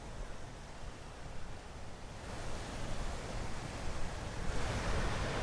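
A fountain sprays water beside the Unisphere on the 2019 U.S. Open tennis grounds in New York, making a faint, steady rushing hiss that grows slightly louder toward the end.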